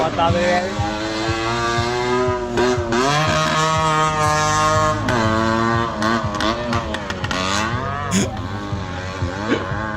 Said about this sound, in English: This is Sri Lanka tuk-tuk racing.